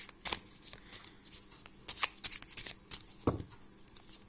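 Tarot cards being shuffled by hand, a close run of crisp riffling flicks and soft slaps in an uneven rhythm, with a low thump near the end and no talking.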